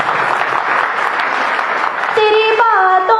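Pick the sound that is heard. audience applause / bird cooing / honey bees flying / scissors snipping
audience applause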